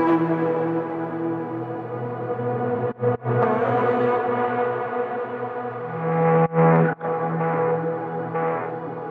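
Processed vocal melody from a vox group in an Ableton electronic track, all sourced from a voice: a loud, dense, continuous harmonic lead with brief dropouts, no talking.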